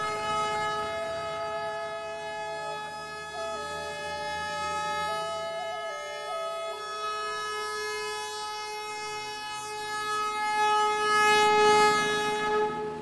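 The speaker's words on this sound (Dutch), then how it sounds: "De hoorn wordt hier flink gebruikt." A Himalayan toy train on the climbing line from Siliguri toward Ghum sounds its horn in long sustained tones, loud and repeated, over the steady rumble of the locomotive and carriages.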